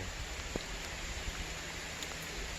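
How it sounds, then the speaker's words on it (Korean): Rain falling during a mountain bicycle ride, a steady soft hiss of drops with a few sharper taps and faint rustling, moderately close and without speech. "아 비가 와가지고 참 고민이네요."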